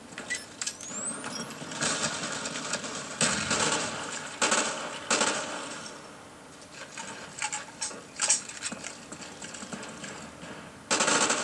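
Automatic gunfire in Call of Duty: Black Ops hardcore Headquarters multiplayer: repeated rapid bursts with short pauses between them, fairly loud and close, then a brief lull before firing resumes.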